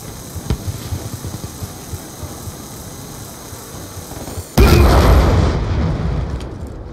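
A loud, sudden RC-XD remote-control car explosion in a Call of Duty Black Ops II Team Deathmatch blasts in after a stretch of low gunfire and battle noise, then rumbles on for about two seconds.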